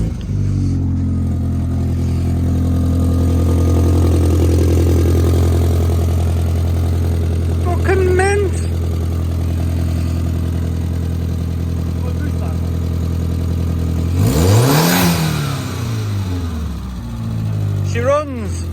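A Volkswagen Jetta 1.8T engine runs at a steady, smooth idle with no rattle after a faulty single-mass flywheel was dealt with. It rises into a sharp rev near the end and drops back, and talk runs over the idle.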